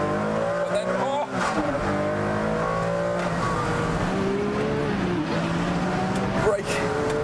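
Ferrari Enzo engine roaring loud and close as it blips on downshifts under braking, rising and falling revs over sustained tire noise, with someone talking over it.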